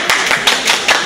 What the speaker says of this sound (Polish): Gratuluję. Brawa.